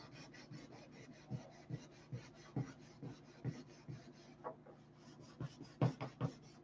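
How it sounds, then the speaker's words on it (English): Rhythmic rasping strokes of hand sandpaper on wooden cap strips of a model aircraft, repeated about twice a second, close and quiet with no talking. "I was just sanding on the cap strips there"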